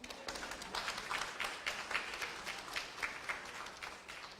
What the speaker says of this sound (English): You guys can clap to that.